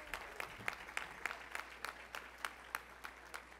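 Steady, evenly paced clapping at a convention in Anaheim, California, each clap distinct and fairly faint, keeping a regular rhythm throughout.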